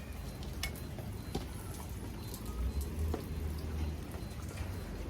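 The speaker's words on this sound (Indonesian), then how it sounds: "Ini di sini hujan gede banget, tapi udah agak reda" Heavy rain pours steadily outdoors, a dense continuous hiss and patter with scattered sharper drops close by, constant in loudness throughout with no voices.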